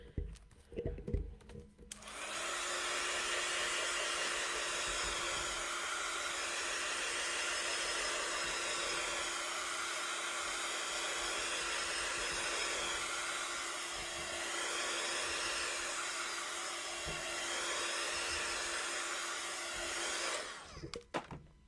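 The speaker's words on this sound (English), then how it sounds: "Give it a quick blast with the heat tool." A handheld heat tool blasting hot air over a thin layer of paint in an art journal, a steady loud whooshing blower hum with a constant motor whine running for about eighteen seconds before switching off.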